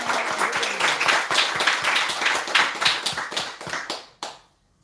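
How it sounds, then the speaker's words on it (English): A small gathering after a kirtan gives a lively round of hand clapping, rhythmic and close, which fades out and stops sharply just past four seconds. "Another big round of applause."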